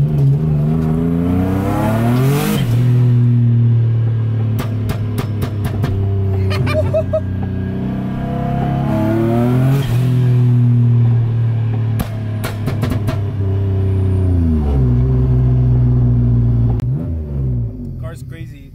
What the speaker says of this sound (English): Here's some backfires.